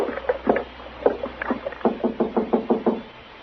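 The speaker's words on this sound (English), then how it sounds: "go ahead and knock" Knuckles rap on a wooden door in an old western setting, a loose string of knocks that quickens into an even run of about eight raps near the end, close and clear with no talk.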